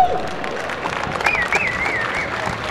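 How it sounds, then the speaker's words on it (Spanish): Audience applause at a developer conference talk, steady mixed clapping with a few cheers throughout, no speech over it. "Fuerte aplauso, por favor."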